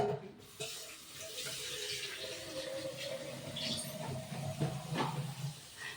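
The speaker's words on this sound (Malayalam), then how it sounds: "കുറച്ച് പാത്രങ്ങൾ കഴുകാണ്ടിട്ട് അതൊന്ന് കഴുകട്ടെ" A tap runs steadily into a sink while dishes clink and rattle now and then, close by and without talking.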